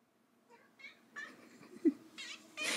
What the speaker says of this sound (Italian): Vieni, gatto Denver!